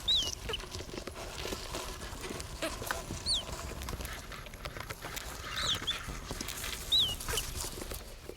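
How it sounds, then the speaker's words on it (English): Naked mole rats give high, chirping calls that sound like birdsong: a handful of short, thin chirps scattered over a quiet, rustling background, faint and spaced apart. "Naked mole rats turn out to have 18 different calls, each with its own meaning, an extraordinary number for a rodent."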